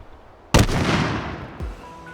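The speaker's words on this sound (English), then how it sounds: "And fire the grenade." A single grenade launched from an M4 underbarrel launcher in the H3VR virtual reality shooter, a sudden loud boom with a long rumbling decay and a second thud shortly after.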